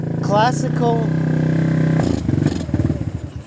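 A Honda XR150 motorcycle with a carburetor problem cranks and catches, its engine putting along unevenly and loud nearby, with someone talking over the start.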